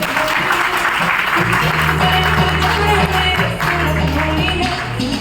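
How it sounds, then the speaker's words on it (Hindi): Audience applause at a business achievers' meeting in Meerut, dense and loud clapping filling the room for several seconds, with music or a low hum underneath. "एक जबरदस्त तालियां हो जाए"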